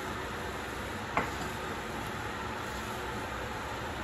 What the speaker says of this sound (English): the robot vacuum, in case you guys are wondering what that noise is in the back.